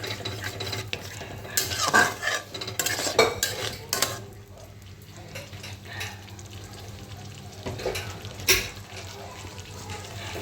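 A spoon stirs and sautés spice masala for mouri paneer, a fennel-flavoured vegetarian paneer dish, in a pan, scraping and clinking in bursts over a steady low hum, louder in the first few seconds and again near the end.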